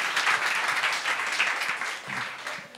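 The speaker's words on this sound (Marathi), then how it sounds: "एकदा जोरदार टाळ्या" Audience applause at a live Marathi comedy show, a dense, steady burst of clapping from a crowd that holds for about three seconds and eases slightly toward the end, with no talking over it.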